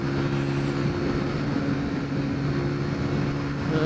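Cars crawl along in slow traffic, a steady low rumble of engines and tyres with a constant hum from passing vehicles, continuous and fairly loud with no clear individual pass-bys and no talking.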